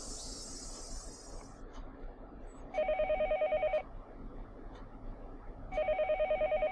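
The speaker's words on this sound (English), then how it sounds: "The phone rang for a third time." A telephone in the Higurashi When They Cry visual novel rings in two electronic bursts about three seconds apart over quiet ambient music, each ring a rapid warbling trill.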